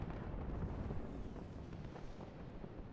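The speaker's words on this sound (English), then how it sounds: "Artillery trying to hit my AA" Low rumbling booms of distant artillery fire and explosions in a war strategy video game, a continuous muffled roar that swells and fades at moderate loudness, with no talk over it.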